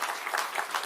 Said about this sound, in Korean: 이쯤에서 박수 한번 좀 쳐야 되는 거 아닙니까?